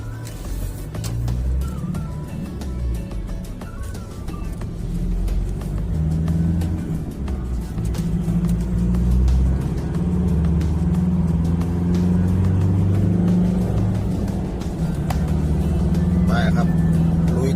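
Cars and heavier vehicles pass in busy road traffic, making a continuous low engine rumble with swelling pass-bys, while a voice speaks over it.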